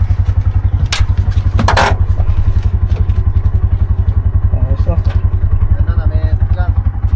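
The steady, rapid low chug of a Bajaj RE three-wheeler engine on a steep, bumpy road in Isabela runs loud and close throughout, with a few knocks and clatters and brief speech over it.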